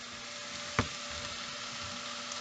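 Ground meat browns in a pan for a pasta bake with a steady, fairly quiet sizzle and one sharp click or scrape.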